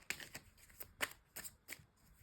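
A tarot card is drawn and slid from the deck in a few quick, close papery flicks and snaps, with short quiet gaps between them.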